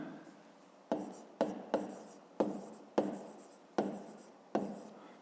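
Pen or pencil writing out a maths answer on paper, seven sharp scratchy strokes in an uneven rhythm, each fading quickly, close and quiet with no talking.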